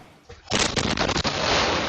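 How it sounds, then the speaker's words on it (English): After a quiet moment, a house in a Pittsburgh suburb explodes in a sudden loud blast, followed by a burst of crackling, rumbling debris noise that keeps roaring. "doorbell video capturing the moment this home exploded"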